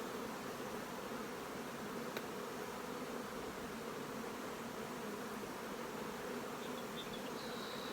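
Honeybees buzz around an open hive box during a summer inspection, with foragers bringing in nectar; a steady, dense droning hum runs throughout at even loudness, close and continuous with no talk.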